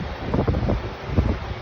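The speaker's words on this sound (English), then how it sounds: "It's a little windy." Steady outdoor wind buffeting a microphone, a continuous low rumbling roar with gusts swelling and easing throughout, and no voices.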